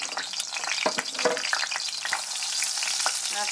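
Garlic frying in oil in a hot pan, a steady close sizzle with a few stirring scrapes and pops throughout, with no talk.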